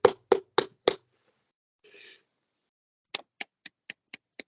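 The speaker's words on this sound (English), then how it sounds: "maybe we can muster a round of applause in the usual way" Sparse claps from online meeting attendees, a few distinct hand claps early, a short muffled burst, then a quicker run of lighter claps, each isolated against silence.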